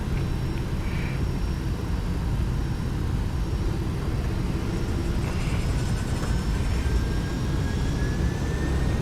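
The engines of a Flight Factor Boeing 757-200 spool up toward takeoff power in the X-Plane 12 flight simulator, with a steady low cockpit rumble and a faint whine slowly rising in pitch beneath it.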